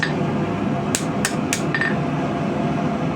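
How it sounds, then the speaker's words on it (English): Three sharp hammer blows ring out on steel at a steady pace while a thin feather-pattern knife blade is hand-forged, with a fainter fourth tap after them over a constant background hum. "I'm angling my steel and I'm angling my hammer"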